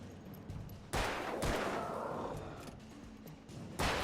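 Gunfire in the 2010 video game Alan Wake: a loud broadband blast, a second shot half a second later, then a sustained noisy burst and a final loud shot at the end, with no voices.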